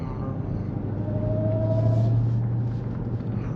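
A 2021 Dodge Charger Hellcat engine drones in a steady, low rumble while driving, holding an even level with a slight swell in the middle and no talking.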